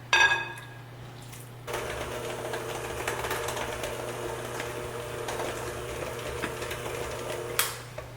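Electric mixer blending milk into eggless chocolate cake batter in a bowl, starting after a brief clatter and running as a steady close whirring drone with soft batter slapping, stopping near the end.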